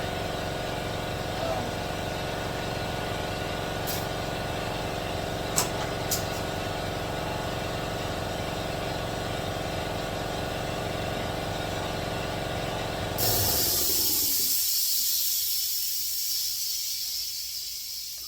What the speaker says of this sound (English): sorry about the air compressor, guys.